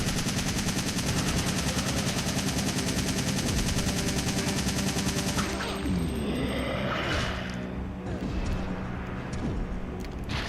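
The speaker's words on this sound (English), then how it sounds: "let's just mag dump him" Rapid, sustained automatic gunfire from a magazine being emptied in a video game, loud and continuous for several seconds before tapering into scattered impacts and quieter game noise.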